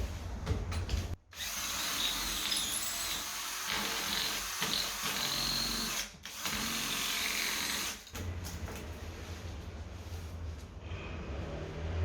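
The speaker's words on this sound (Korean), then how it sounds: "6mm짜리로 한 번 더 뚫어 볼게요." Power drill boring a hole with a 6mm bit, a steady whining drone interrupted by a few short pauses, fairly near and with no talking.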